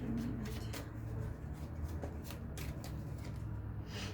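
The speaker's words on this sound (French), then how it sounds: "Une carte qui saute" Tarot cards being riffled and shuffled close up, a quick papery flutter with soft snaps and one card flicking out, quiet and steady for a few seconds.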